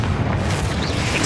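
A Confringo blasting-spell explosion in Hogwarts Legacy gives a short, loud, deep booming burst that fills the moment on its own.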